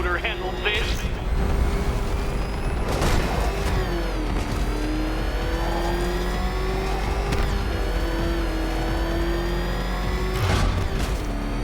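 A car engine in the Arkham Knight video game holds a steady, droning rev with a shifting whine, loud and continuous, while a voice talks over it.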